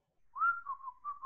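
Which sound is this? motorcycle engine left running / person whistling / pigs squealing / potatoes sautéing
person whistling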